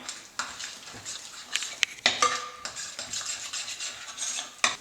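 A spoon stirring milk into a frozen yogurt mixture in a bowl, with scraping strokes and sharp clinks of metal against the dish, close and moderately loud, no talking.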